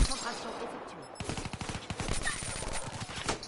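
Rapid automatic gunfire in a multiplayer shooter game, dense bursts of repeated shots that are loud and close, with a player's voice briefly heard at the start.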